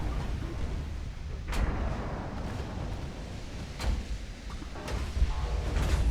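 Heavy naval gunfire in the video game Ultimate Admiral: Dreadnoughts booms and cracks at intervals over a constant low rumble, several distant shots scattered across the clip.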